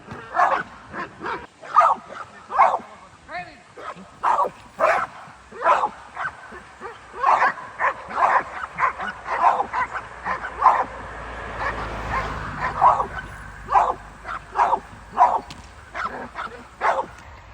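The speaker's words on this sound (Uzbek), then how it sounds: "Mana bu ham zotdor it ekan, mana bunisi ham." Several purebred dogs bark repeatedly during training, a steady run of sharp barks and yips at mid distance with a few whimpers mixed in.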